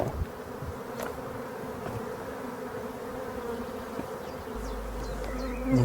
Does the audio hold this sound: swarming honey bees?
yes